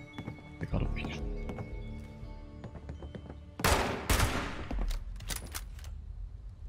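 Gunfire in the video game Fallout 76: a series of sharp shots, then a louder burst of rapid fire midway, over game ambience with someone talking throughout.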